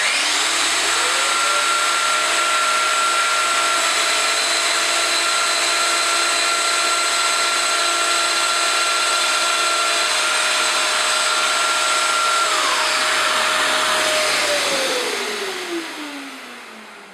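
A Festool Domino DF 700 joiner cuts a slot in a piece of wood clamped to a work surface, a loud steady motor whine that holds for about fourteen seconds and then winds down as the tool stops.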